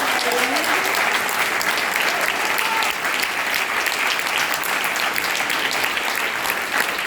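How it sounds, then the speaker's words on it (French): Warm, steady applause from a concert audience at a Greek music workshop performance in Paris, a dense continuous patter of many hands lasting throughout with no voices over it. "Applaudissons chaleureusement Caterina Fottinaki et l'ensemble des élèves"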